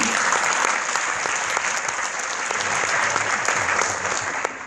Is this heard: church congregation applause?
yes